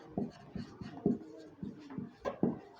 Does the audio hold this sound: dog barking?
no